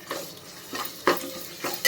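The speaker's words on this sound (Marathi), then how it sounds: "आलं लसूणचा कच्चेपणा जाईपर्यंत आपल्याला अर्धा मिनिटभर परतून घ्यायचं आहे" Ginger garlic paste sautéed in a pan with onions and green chillies, heard as soft spoon stirring and scraping with a few louder clinks against the pan and a faint sizzle underneath, no talking.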